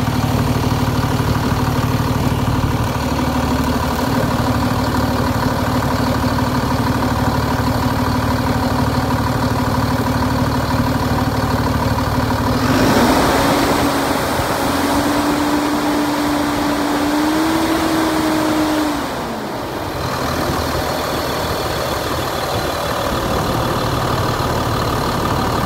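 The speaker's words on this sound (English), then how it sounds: "That's a big old engine, man. That was loud" The big diesel engine of an International 4300 flatbed truck idles loudly and steadily up close, its low rumble briefly swelling as revs rise and fall midway.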